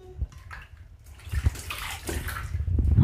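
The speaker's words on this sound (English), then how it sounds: "She's splashing the water." A toddler splashes bathwater in a tub, with irregular close sloshes and slaps building toward a louder splash at the end.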